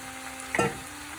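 Vegan mee goreng noodles sizzle in a frying pan under a steady hiss, with one brief stirring scrape partway through.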